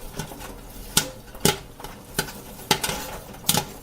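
Popcorn striking the tray of an antique-style Great Northern kettle popper, a series of sharp, close taps at irregular intervals over a soft background sizzle.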